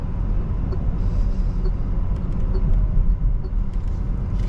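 Steady downtown Chicago traffic rumbles outside a Lucid car, a continuous low roar of passing vehicles with faint higher clicks and hisses, no talking.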